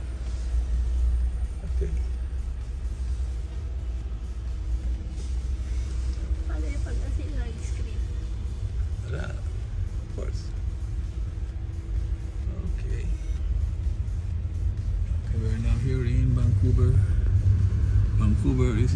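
Steady low road rumble inside an electric Tesla taxi driving through Vancouver traffic, a constant drone filling the cabin while passengers talk quietly underneath.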